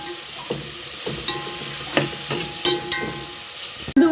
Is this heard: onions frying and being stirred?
yes